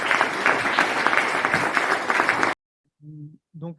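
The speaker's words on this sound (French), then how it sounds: "Sous vos applaudissements." Audience applause at a Hackaviz data-visualisation event as presenters are called up, dense steady clapping for about two and a half seconds that stops abruptly, followed by brief speech.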